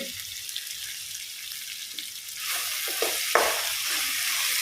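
Tomatoes and masala frying in a pan, a steady near sizzle that grows louder and brighter partway through, with a few stirring scrapes and clinks.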